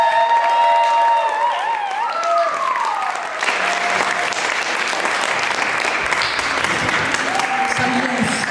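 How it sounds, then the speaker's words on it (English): An audience applauds loudly and steadily after a talk about symphonic game-music history, with clapping building and sustaining throughout, plus a brief tonal sweep near the start. "if you can give JJ a big round of applause"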